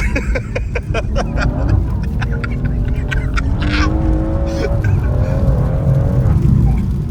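A BMW M140i engine drones and rises in pitch as it accelerates, heard from inside over steady road rumble, with muffled voices briefly in the background.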